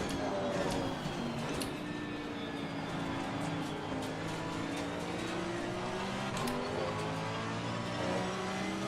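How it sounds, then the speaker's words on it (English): A Porsche GT3 race car engine in Assetto Corsa Competizione at the Nürburgring drones steadily throughout, its pitch rising and shifting as it revs, with a continuous mechanical roar at moderate volume. "You can hear the little Porsche engine."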